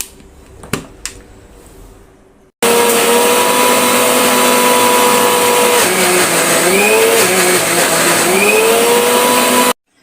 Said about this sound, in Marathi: हे मिक्सरला लावून घेणार आहे। एकदम बारीक अशी चटणी लावून घ्यायची।